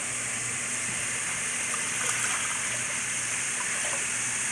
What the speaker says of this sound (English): Now we're going to just add water.